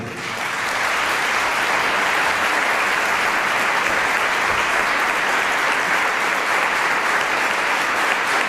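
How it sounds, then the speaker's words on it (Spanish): A large audience bursts into sustained, loud applause at a political master class event, a dense even wash of clapping that holds steady for the whole stretch without any talk over it. "Recibimos con un fuerte aplauso en el día de hoy"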